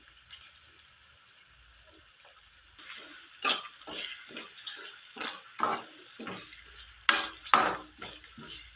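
Onion, chilli, chana dal and urad dal frying in hot oil for poha, a soft steady sizzle with scattered stirring scrapes and clinks, heard close and without talk.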